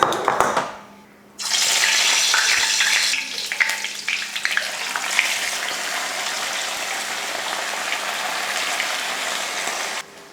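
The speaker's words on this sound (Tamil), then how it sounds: "இப்போ கடைசியாக நம்ம சில்லி தான் பொரிக்க போகிறோம்." Steady, loud sizzling of chilli chicken frying in hot oil, starting with a sudden burst after a brief quiet moment and continuing evenly throughout.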